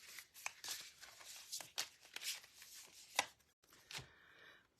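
A deck of tarot cards being shuffled by hand in a quiet room, a steady run of soft, crisp riffling and slapping bursts that stop briefly near the end.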